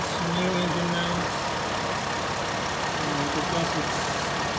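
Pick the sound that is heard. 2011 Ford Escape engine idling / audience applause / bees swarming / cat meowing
2011 Ford Escape engine idling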